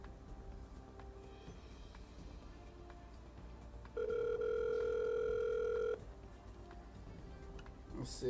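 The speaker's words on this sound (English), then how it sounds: "let's go ahead and get her on the phone right quick" A steady telephone tone sounds for about two seconds while a call is placed, loud and close, with faint background noise and murmuring before and after it.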